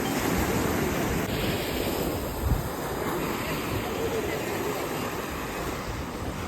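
Ocean surf at Harihareshwar beach in Raigad washes in as a continuous broad roar of breaking waves, loud and close, with wind noise in the microphone.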